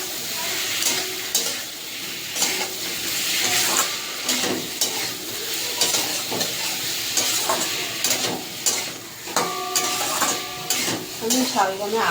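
A ginger, cumin, coriander and chili spice paste fries in a pan with a steady sizzle, broken by frequent scrapes and clinks of a spoon stirring against metal, close and fairly busy, no talking.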